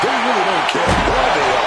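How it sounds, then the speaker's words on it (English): In the WWE 2K26 wrestling game, a wrestler is slammed onto steel ring steps, landing with a single heavy thud partway through while a commentator keeps talking over it. "You heard the thud on the steps."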